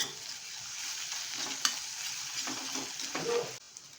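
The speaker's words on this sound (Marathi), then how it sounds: "कांदा छान असा परतला गेलेला आहे" Onion sautéing in a pan for a spicy brinjal and potato dish gives a steady, close frying sizzle with stirring scrapes throughout, ending abruptly.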